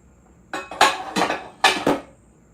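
Dishes and cutlery clatter in a full kitchen sink while egg sandwiches are being made: a quick run of five or six sharp, close clanks and clinks with short gaps between them.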